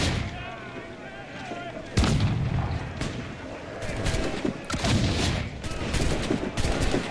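Ship side cannon fire in Assassin's Creed IV Black Flag, with several loud booming blasts and crackling gunfire bursts over a constant game soundscape.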